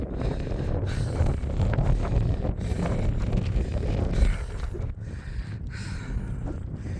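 Steady wind gusting across an open Dartmoor hilltop on a hot, breezy day, buffeting the microphone as continuous broadband rumble with slight swells and dips throughout.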